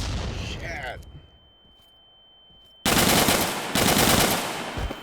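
Loud, close bursts of automatic gunfire in the tactical shooter game Burkina Faso: Radical Insurgency, with a short barrage, a nearly silent gap with a thin ringing tone, then two heavier sustained volleys.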